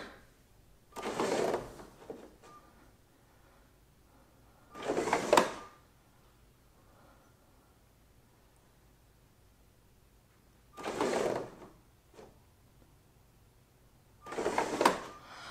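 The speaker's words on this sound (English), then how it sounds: "that's how the motor system works. It just opens and closes, and it has that little wait period in between." A Lego motor system for a Starkiller Base build runs through its opening and closing cycle, giving four separate mechanical whirring bursts with quiet pauses between them, close by and with no talk.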